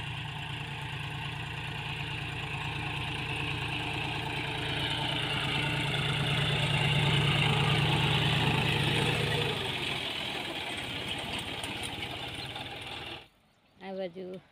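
A farm tractor engine idles with a steady, close mechanical chug during sowing work in a field, holding for most of the stretch before cutting out near the end, with voices heard over it.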